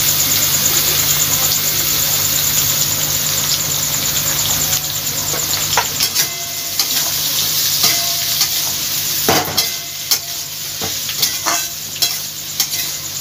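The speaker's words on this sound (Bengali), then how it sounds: "এবার দেব তিনটে মাঝারি সাইজের পেঁয়াজকে আমি ছোট ছোট করে কুচিয়ে রেখে দিয়েছিলাম, এই আলুর ওপরই দিয়ে ভেজে নেব।" Finely chopped medium onions frying over diced potatoes in a kadai with fat, a continuous loud sizzle with repeated scraping and stirring clatters of a spatula growing more frequent toward the end.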